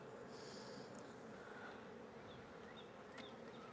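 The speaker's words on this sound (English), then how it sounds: "There's just a little bunch of bees that stays up there." A swarm of bees clustered high in a tree hums in a dense, continuous drone, faint and distant, with a few individual buzzes passing nearer.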